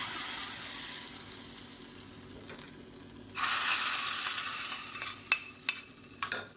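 Garlic tempering sizzles loudly as it is stirred into spinach stem kootu, with a steady frying hiss that jumps sharply in level midway and is followed by a few scraping clinks, without any talk.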